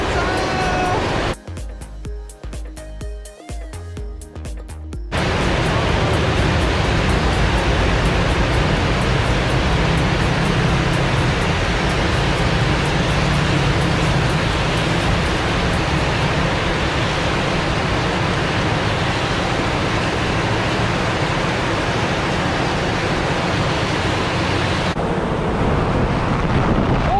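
Heavy rainstorm with strong wind during a long-distance walk in southern Taiwan, a loud, dense, continuous roar of rain and gusts filling the whole clip after a brief quieter opening, close and steady throughout.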